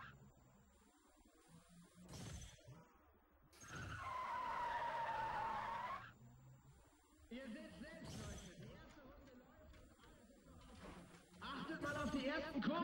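Cars racing in the video game Need for Speed ProStreet, with bursts of tire skidding and engine noise, while someone talks over the game sounds.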